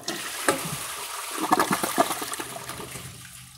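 A Kohler toilet flushing during a flush test comparison: a sharp onset followed by a rushing, gurgling swirl of water that drains away into a quieter trickle, close and moderately loud, with no talking.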